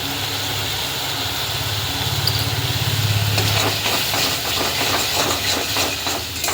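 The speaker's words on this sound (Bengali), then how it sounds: "ভালো করে একটু মশলাটা কষে নেবো আবার।" A spice paste of ground cumin, coriander and chili fries in a pan, giving a steady close sizzling hiss, and rhythmic stirring scrapes come through in the second half.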